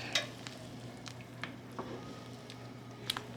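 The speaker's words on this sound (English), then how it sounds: "And then just give it a nice little mix up." Beans being stirred into a pot of Albanian bean soup, soft wet swishing and a few light spoon knocks against the pot over a low steady hum, close and quiet, no talking.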